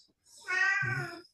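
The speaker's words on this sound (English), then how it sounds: "if you hear my cat meowing in the background" A domestic cat meows once indoors, a single drawn-out cry that rises and then falls, close and clear against a quiet room with no voices.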